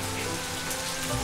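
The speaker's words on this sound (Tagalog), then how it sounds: "Umulan bigla!" Sudden rain falling steadily, a dense, even wash of drops spattering on surfaces, close and continuous with no voices.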